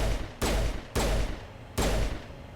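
Gunshots in the video game Mass Effect, three loud separate blasts spaced under a second apart, each a sharp crack followed by a ringing decay.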